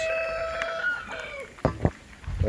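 Buff Orpington show chickens on a farm: a rooster's drawn-out crow rings out first, followed by a few sharp, close clucks and rustling.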